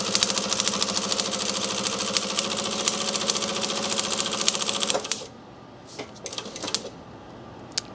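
A sewing machine stitches a piece of Ultra 200 fabric onto a backpack, running in a steady, rapid, close-up rhythm for about five seconds before stopping, followed by a few light handling clicks.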